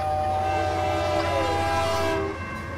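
A loud, sustained train-whistle tone with steady pitched harmonics, a person's voice imitating a freight train whistle, close and strong before trailing off.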